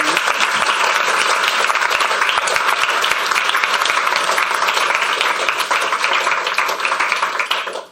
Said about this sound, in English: I think we should have another round of applause